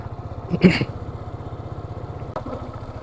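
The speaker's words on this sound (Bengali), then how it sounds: "একদম সমুদ্রের কিনারা ঘেসে বাইকে আমরা রওনা দিছি" A motorcycle engine drones steadily and close while riding along the sea's edge on Cox's Bazar beach, with a low throbbing pulse and a couple of brief louder bursts.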